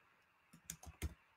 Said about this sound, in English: I'm typing this into the comments